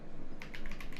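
A short burst of computer keyboard typing, about half a dozen quick clicks, enters a Linux command after a brief quiet moment, close and clear with no talk.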